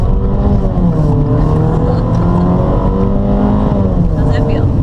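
A Jeep Renegade accelerating on a road, its engine holding a steady loud drone with rising and falling tones, close and continuous throughout.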